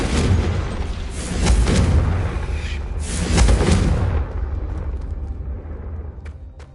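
A Confringo blasting spell detonates in a video game, a loud booming explosion with rumbling bursts swelling twice before fading into quiet with a few faint ticks.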